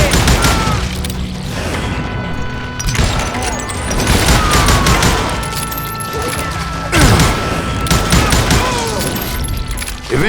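Gunfire in the Western shooter Call of Juarez: Gunslinger, loud bursts of shots with booming impacts and ringing echoes, coming in dense clusters across a noisy game mix.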